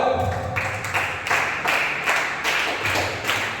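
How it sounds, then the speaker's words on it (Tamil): A church congregation at a Sunday service claps hands in steady unison, a run of loud, evenly spaced group claps filling the room. "கையத்தட்டு அல்லேலூயா"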